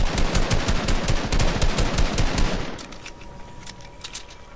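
Rapid gunfire from a shooter video game, a dense stream of loud shots for over two seconds, then sparser, quieter scattered shots trailing off.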